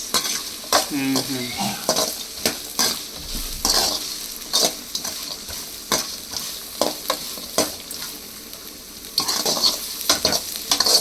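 Onion, green chilli and curry leaves fry in a pan for a morning Maggi breakfast, a steady sizzle broken by repeated sharp scrapes and clinks of a stirring spoon against the pan, close and fairly loud, with no talking.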